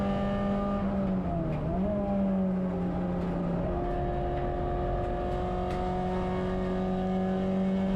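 A race car in the CSCC Tin Tops and Turbo Tin Tops saloon race at Silverstone gives a loud, close engine drone that holds steady, dips briefly as revs shift, then settles again.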